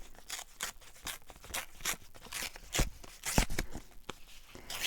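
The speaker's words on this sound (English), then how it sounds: "Let's just tear this" Paper torn from a book page in several quick, crisp ripping bursts, close and fairly loud, with no talking.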